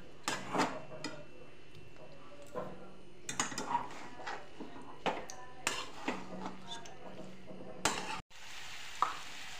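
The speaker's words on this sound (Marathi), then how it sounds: "एक कप दूध ऍड करू आणि याला छान असं शिजवून देऊ आपण" Carrot cooking with milk in a pan, with soft bubbling and sizzle broken by repeated stirring and scraping knocks of a utensil against the pan, heard close, with a voice talking over parts of it.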